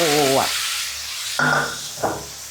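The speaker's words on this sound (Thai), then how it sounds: "น้ำมันร้อนแล้วมาดูกันเลยค่ะ เทผักกระเฉดลงไปเลยค่ะ" Water mimosa poured into hot oil in a wok for a Thai stir-fry with crispy pork rind, bursting into a loud hissing sizzle, with someone speaking between the bursts of frying.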